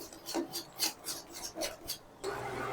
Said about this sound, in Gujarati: પછી એને બરાબર વ્યવસ્થિત રીતે પાછું હલાવી નાખવાનું.